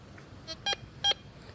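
Tianxun TX-850 metal detector emitting a signal tone: a soft blip followed by two louder, short electronic beeps a fraction of a second apart, alone over faint background hiss.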